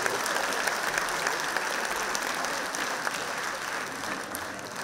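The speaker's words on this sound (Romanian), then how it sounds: "Aplauze pentru doamnă." An audience claps steadily at a live concert show, a dense, sustained burst of applause from a crowd that stays even and full for several seconds without any talk over it.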